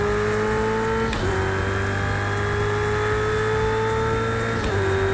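A race car engine in Project Cars 2 drones loudly and steadily at high revs, with brief dips where the traction control cuts in and the pitch holds through a continuous run.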